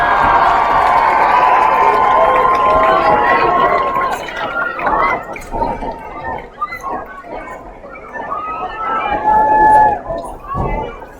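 Crowd at a Thomas Jefferson High School football game cheering and clapping for the cheer squad, a steady loud roar of voices that thins into scattered shouts and chatter, with an announcer speaking over it.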